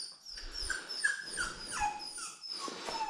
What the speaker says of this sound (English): Why is there a dog in the cave?